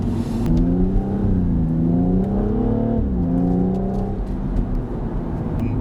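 A BMW M135i with an Eisenmann exhaust and remap revs steadily with a deep, throaty note, pitch rising and falling through several throttle blips, loud and close.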